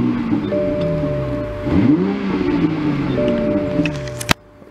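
A 2020 Toyota Supra 3.0 Premium starting up: a starter whir rises into the engine catching with a rev swell, then settles to a steady idle hum, close and fairly loud, ending with a sharp click.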